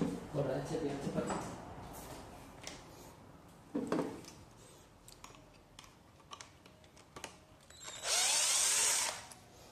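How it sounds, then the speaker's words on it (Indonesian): A power drill runs in short bursts while a solenoid valve from an automatic single-tub washing machine is taken apart, with a longer loud whir near the end and someone talking through much of it. "pakai bor aja biar cepat."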